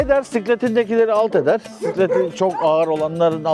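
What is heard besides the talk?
No distinct noise like a dog, phone or traffic.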